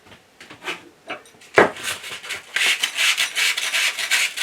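A shaft is polished by hand with wet and dry sandpaper on a wet stone sharpening system: a few sparse rubs and a knock, then quick steady back-and-forth rasping strokes up close.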